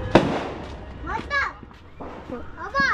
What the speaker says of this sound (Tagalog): Look, fireworks! Fireworks outside!